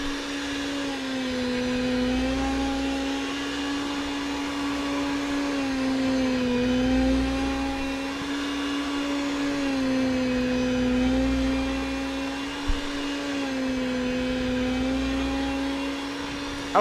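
Electric meat slicer cutting a crock pot pork roast, a steady motorized whine and hum running throughout with slight rises and dips in pitch as the blade passes, plus one small knock near the end.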